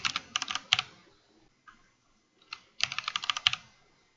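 Typing a title on a computer keyboard, in two quick bursts of close, crisp key clicks separated by a quiet pause, with no voices.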